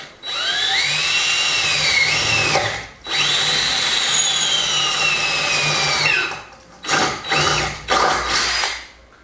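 A power drill bores through aluminium with a steady high-pitched whine in two long runs, then several short bursts as the bit stops and starts, close and loud with no talk.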